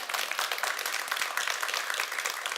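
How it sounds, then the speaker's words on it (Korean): An audience claps during a Christmas talk about Salvation Army red kettle fundraising, producing a brisk, continuous patter of many hands at moderate volume with no voices over it. "이럴 때는 박수를 한번 주시면 좋겠습니다."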